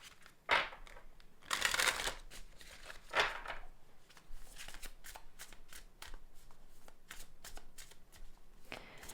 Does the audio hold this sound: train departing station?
no